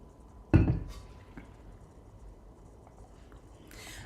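A single sharp clink of glass and dishes sounds nearby while someone gets a glass of water, then fades into quiet room noise with a few faint knocks.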